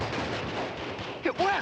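Wartime gunfire in an old war film, a dense, noisy rumble of shots and blasts running throughout, with a shouted voice breaking in near the end.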